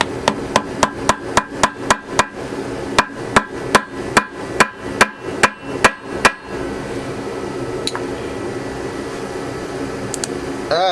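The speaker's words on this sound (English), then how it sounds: "The old hammer and screwdriver trick" A hammer strikes a screwdriver on stuck screws of a 1995 Yamaha WaveRunner in a quick, even series of sharp taps, pauses briefly, then taps again in another run, over a faint background hum.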